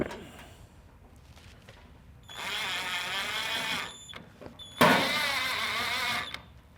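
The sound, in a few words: driving screws into Camp Chef Apex bottom panel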